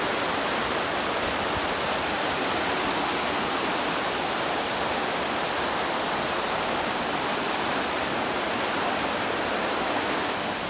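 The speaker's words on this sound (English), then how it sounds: "So we've got some of the water running under here and into the hydropower station, and then this is just an overflow chute" Water rushing down the overflow chute of a hydropower station, a constant loud hissing roar with no break, close and steady throughout.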